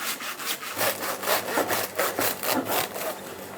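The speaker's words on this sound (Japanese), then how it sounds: "ノコギリ大工さんが使ってるやつと同じ。" A hand saw rasps back and forth through a 166 kg tuna in quick, regular strokes, close and clear, with no talking.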